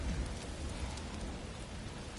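A desert storm in Alfheim in the game God of War Ragnarok: a steady, dense roar of wind and driving rain that holds at an even level throughout, with no voices.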